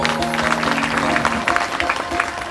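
Audience at a Shrimad Bhagavat Katha religious discourse in a village setting claps along, loud dense rhythmic clapping with a sustained musical tone underneath, close and continuous throughout.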